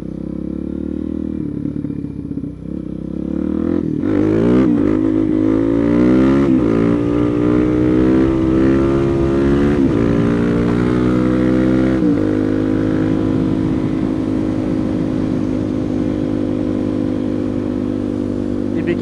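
A motorcycle engine rising from a low idle into a loud, sustained climbing rev for a power wheelie, close and harsh, holding a high drone to the end.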